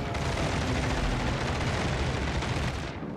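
Bombs from an aircraft bombing run explode in World of Warships: Legends, a dense, loud, rumbling barrage of blasts that rolls on continuously before easing off at the end.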